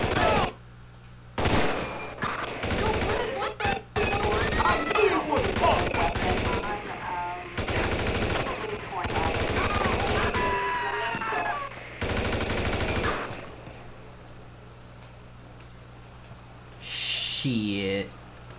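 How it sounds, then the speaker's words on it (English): Gunfight in the video game GTA V, with repeated loud bursts of automatic fire in separate volleys over about thirteen seconds, interleaved with voices talking, then quieter game ambience. "Gunfight!"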